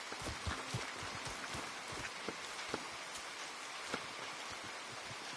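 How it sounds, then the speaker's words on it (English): Steady rain falls outdoors, a dense even hiss with scattered louder drops striking nearby surfaces, continuous throughout with no voices. "Come on, it's raining."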